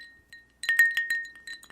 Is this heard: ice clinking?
yes